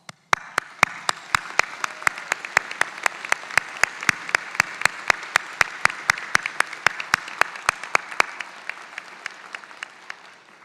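Applause from a graduation audience at Western Piedmont Community College honoring faculty and staff, steady dense clapping lasting about eight seconds and then fading, with sharp regular transients throughout.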